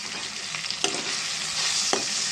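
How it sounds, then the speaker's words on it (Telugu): Ginger garlic paste frying in a pan, a steady close sizzle with a few sharp scraping stirs of a spoon, no voices. "ఈ అల్లం వెల్లుల్లి కొంచెం పచ్చివాసన పోయేదాకా ఫ్రై చేద్దామండి"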